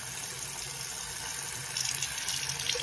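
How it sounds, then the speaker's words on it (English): Tap water runs steadily into a bathroom sink while hands are washed during a bedtime routine, a continuous close hiss with a little extra splashing toward the end. "Let me wash my hands."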